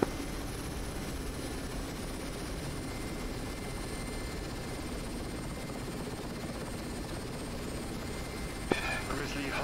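Helicopter hovering in a flight simulator video game, a steady, continuous rotor and engine drone that holds the same level from start to end.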